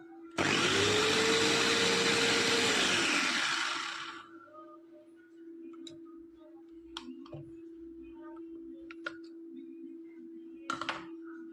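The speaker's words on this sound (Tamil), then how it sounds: "சாப்பரில் போட்டுங்க ஒரு அடி அடிச்சுக்கலாங்க." A food chopper chopping carrots whirs loudly for a few seconds, its motor pitch rising, then stops, leaving a steady hum and faint clicks.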